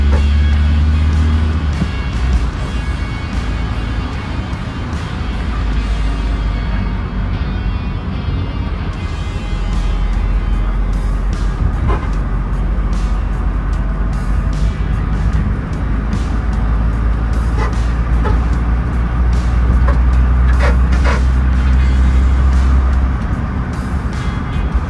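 An old car drives on the road after sitting abandoned for 15 years, its engine and road noise forming a loud, steady low rumble that shifts pitch as the gears change, with brief faint clicks and no talk.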